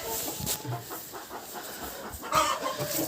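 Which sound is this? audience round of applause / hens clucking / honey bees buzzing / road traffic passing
hens clucking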